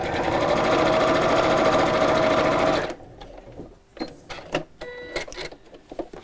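Sewing machine stitching at speed with a loud, steady whirring hum for nearly three seconds, then stopping, followed by quieter handling clicks and rustles.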